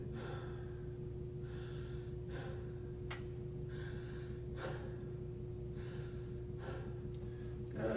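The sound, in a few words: deep breathing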